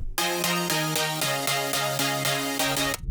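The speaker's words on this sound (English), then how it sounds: "Chords without effect sounds like this." Dry synth chords with no effects in an FL Studio drum and bass track sound in even rhythmic stabs, shifting through a short progression, close and unaccompanied, then stopping abruptly.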